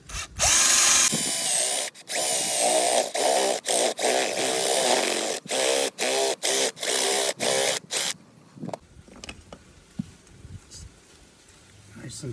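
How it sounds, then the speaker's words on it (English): A power drill drives a 1-inch spade bit through the top of a packy gourd in Jamaica, loud whining bursts cut by repeated short stops and restarts, then quieter handling sounds with speech. "we're gonna start off by drilling a 1-inch spade bit through the top of this Packy"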